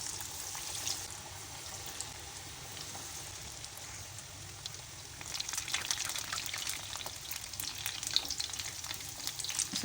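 Fish fingers fry in hot oil over a medium-to-low flame, a soft, steady sizzle that swells into denser, crackling bubbling about halfway through; no voices.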